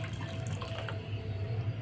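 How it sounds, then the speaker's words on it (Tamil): Steady running water pours continuously into a pot of egg curry with a soft splashing wash, close by, with no voices. "தேவைன்னா இன்னும் கொஞ்சம் தண்ணி சேர்த்துக்கலாம்"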